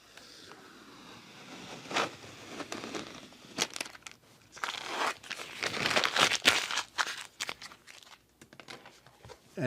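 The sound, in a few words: peeling transfer tape off vinyl lettering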